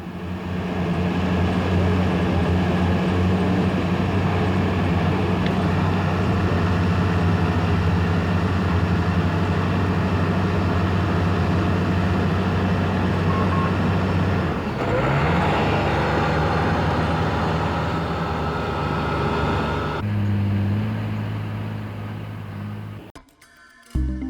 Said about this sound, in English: The winch is again triggered by remote control, lifting the logs off the ground, and the Sky Car and its load are winched back up the mountainside to the landing.